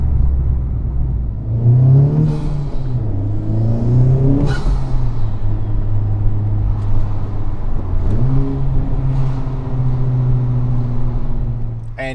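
Honda Civic Type R fitted with a PRL Motorsports part revs at light throttle, its engine note rising in two loud, smooth sweeps that climb, settle, then climb again over a steady close-up rumble, with no talking.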